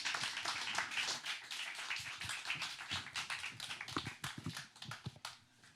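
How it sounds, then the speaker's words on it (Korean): Applause from a church evening gathering welcoming an elder and lawyer to the stage: broad, steady clapping from many hands, with a few louder individual claps standing out, fading toward the end. "우리 박수로 장로님 맞이하도록 하겠습니다."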